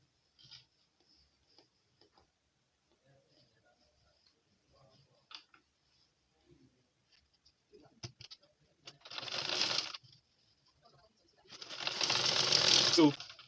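A sewing machine runs in two short bursts, stitching round an elastic waistband, after quiet stretches of faint ticking and handling noises.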